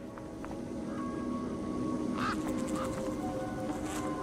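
Birds squawk and quack near a truck in the game Beyond a Steel Sky, with a few short calls rising over a steady, dense background drone.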